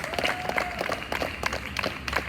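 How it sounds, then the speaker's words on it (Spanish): A church congregation claps together in a steady, fairly quiet patter of applause that lasts throughout, with no speech over it. "vamos a darle un aplauso al Señor Jesucristo que está con nosotros"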